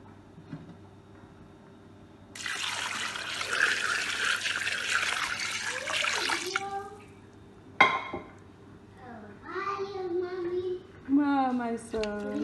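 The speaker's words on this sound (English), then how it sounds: "Then we are going to add water." Water is poured in a steady, loud rushing stream into a pot of okra soup for several seconds, then stops, and people talk afterward.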